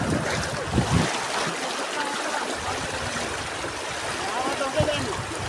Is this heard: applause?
no